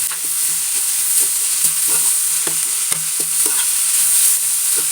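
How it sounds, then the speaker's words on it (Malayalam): Finely chopped, deseeded tomato sautéing in a pan for a vegetable roll filling, giving a steady close sizzle and frying hiss with repeated soft scrapes and taps of a spoon stirring it. "ഇനി അതൊന്ന് നല്ലോണം ഒന്ന് വാട്ടിയെടുക്കാം"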